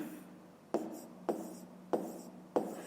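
Pen writing by hand on paper during a fifth-grade maths lesson: four evenly spaced strokes, each a sharp tap followed by a short scratching trail, close and fairly quiet.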